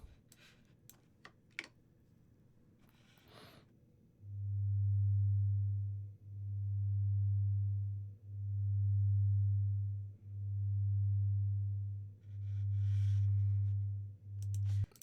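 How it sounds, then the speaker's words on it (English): A pure electronic sine tone from a single oscillator, panned left and right, pulses in five even, loud swells of about two seconds each. Faint keyboard clicks and taps come before it. "it's taking that one sine wave oscillator and it's panning it left and right"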